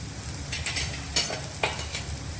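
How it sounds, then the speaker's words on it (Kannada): Cumin, peppercorns, fenugreek and coriander seeds fry lightly in a pan for a Mangalorean chicken curry. A soft, steady sizzle runs throughout, with a few brighter scraping stirs of a spoon against the pan. "ಇದನ್ನ ಲೈಟಾಗಿ ಫ್ರೈ ಮಾಡ್ಕೊಳ್ಳಿ."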